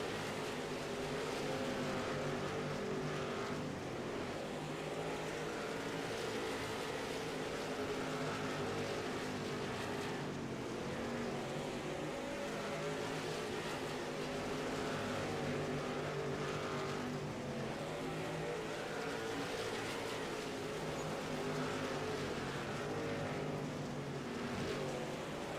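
Race car engines in the iRacing sim game, a steady dense engine roar with shifting whine, continuous and fairly faint across the whole stretch, with no voices.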